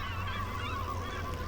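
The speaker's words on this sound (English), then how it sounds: "You can probably hear those gulls there." Seagull calls squawk over a steady low rumble of farm machinery in Farming Simulator 25, the harsh cries overlapping continuously at moderate distance.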